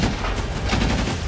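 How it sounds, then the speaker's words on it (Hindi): Assault rifle gunfire in a war zone between Russian and Ukrainian forces, a dense, continuous rattle of rapid shots, loud and rough, overlapping with no pauses. "असॉल्ट राइफल से एक दूसरे पर गोलियां बरसाई जा रही है"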